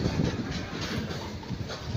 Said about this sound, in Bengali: এই দেখো মাল ট্রেন